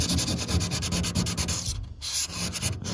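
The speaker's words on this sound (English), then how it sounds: "Really scrub on it" Vigorous scrubbing on the hull of a 66-year-old boat, a continuous loud rasping rub in steady back-and-forth strokes, close up, with a brief lull near the middle before the scrubbing resumes.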